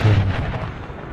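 A cannon shot skips and ricochets across the ground in a Napoleonic battle from Napoleon Total War 3. A heavy booming rumble opens strongly and then rolls and fades over about a second.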